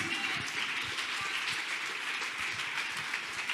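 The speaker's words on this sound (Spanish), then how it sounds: "Vamos, dale otro fuerte aplauso a Dios" A church congregation applauds in praise of God, a dense, even wash of clapping that holds steady throughout with no voices standing out.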